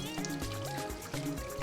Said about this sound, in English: I'll just run some water